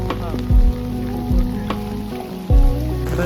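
Steady rain patter fills the background, with low thumping bumps and brief indistinct voice-like sounds over it.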